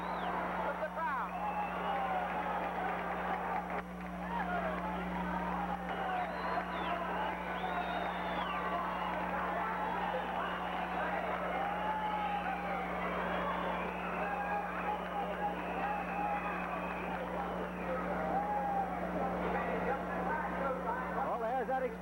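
Crowd noise from spectators at a 1950 roller derby game between the New Jersey Jolters and Philadelphia Panthers, with a steady roar running the whole length under continuous announcer commentary and a constant low hum.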